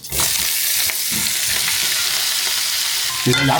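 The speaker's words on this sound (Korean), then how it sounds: "약불로 살짝 이제 이렇게 볶고 있는" Dried squid stir-frying in a pan over low heat with shishito peppers, giving continuous close crackling sizzle and scraping stirs throughout, with no talk.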